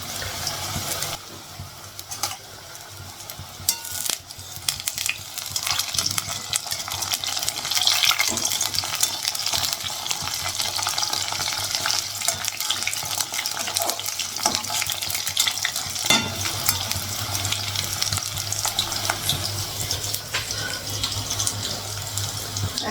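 Food fries in oil in a wok, a continuous close sizzle and hiss holding steady throughout with occasional small clicks and stirring noises.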